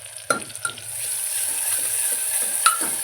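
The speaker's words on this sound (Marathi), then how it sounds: "हे सगळं व्यवस्थित भाजून घ्यायचं" Chopped onion and tomato fry in a pan with a bright steady sizzle, while a spoon scrapes and stirs in a loose rhythm of repeated close strokes.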